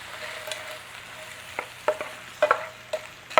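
Frozen seasoning blend of onions, celery, red and green peppers and parsley flakes cooks in a pan for a breakfast casserole, a soft steady sizzle broken by several sharp stirring scrapes toward the end.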